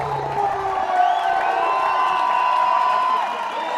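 A crowd at a fight between Nicholas Klem and Brian Borst cheers and whoops steadily, a dense sustained roar of voices filling the space at moderate volume with no clear pauses.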